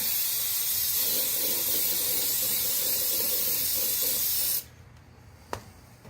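Aerosol brake cleaner sprays steadily onto front brake parts for about four and a half seconds, a loud continuous hiss that cuts off abruptly, followed by near quiet and one brief clack.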